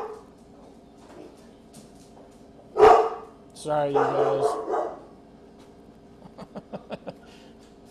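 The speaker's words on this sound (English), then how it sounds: "Freaking dog." A dog barks indoors, first a single sharp bark and then a longer burst of barking, followed by a quick run of softer yips, with a person speaking nearby.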